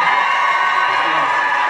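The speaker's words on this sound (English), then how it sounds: "So can we have a round of applause for this man?" A concert audience at a premiere night cheers and whoops loudly in a dense, continuous roar of crowd noise, with shouts and applause blended into a steady wash.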